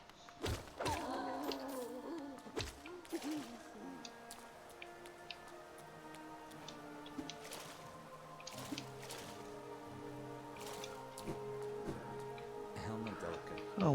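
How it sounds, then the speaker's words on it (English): Rain downpour in the video game Hollow Knight, a steady patter of drops and ticks running throughout, moderately quiet and layered with soft sustained musical tones. "what are you doing out in this miserable downpour?"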